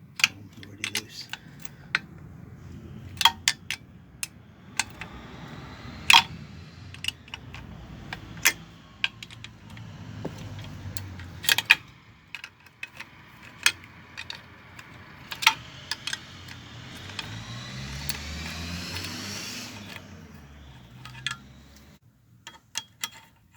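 Metal wrench clicks and ratcheting taps sound as cylinder head nuts are loosened on a Yamaha DT50MX engine, sharp irregular ticks close by with light handling noise between them, without any talk.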